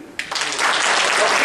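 Church congregation clapping, a dense wash of applause that swells in within a moment and holds steady, fairly close.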